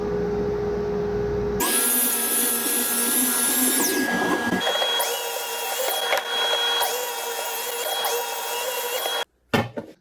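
A power saw cuts wood at a 5-degree miter angle: it spins up with a loud whine, bites through the board with a steady, buzzing roar for several seconds, then winds down and stops abruptly.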